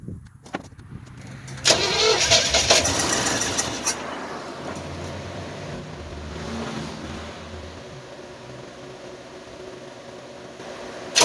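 An Oldsmobile car engine cranks over and catches, then settles into a rough, steady idle after fuel bowls were filled, loud and close throughout with no talking.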